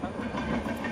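Inside a moving passenger train, a steady low rumble and rattle of the carriage fills a brief moment of ambience without clear talking.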